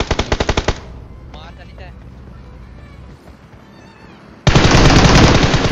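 Rapid automatic gunfire in the mobile shooter BGMI, a burst of quick shots at the start, a quieter stretch with vehicle engine noise, then a loud dense burst of sustained fire at the end.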